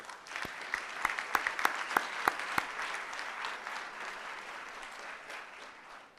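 An awards-breakfast audience applauds community achievement honorees, a broad wash of clapping with several sharp, louder claps near the start, fading gradually toward the end.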